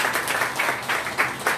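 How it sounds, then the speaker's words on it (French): A church congregation clapping to welcome visitors, a steady close patter of many hands in quick irregular rhythm, alone without speech. "Nous demandons que les visiteurs nous sont capables d'applaudir tête à la gloire de Dieu."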